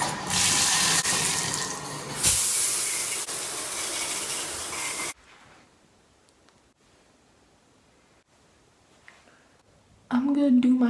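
Home shower water running, a loud broad hiss for about five seconds that then stops, leaving quiet room tone before a short burst of noise at the end.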